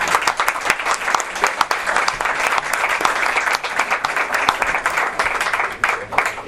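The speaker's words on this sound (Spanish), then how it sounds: "os voy a pedir un aplauso para Alicia" Warm, sustained audience applause fills a room at a poetry book presentation in Madrid, many hands clapping densely and steadily throughout at close range.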